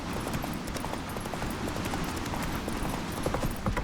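Hooves of the horse Roach in The Witcher 3, a continuous galloping clip-clop running under dense game noise, steady and fairly close throughout.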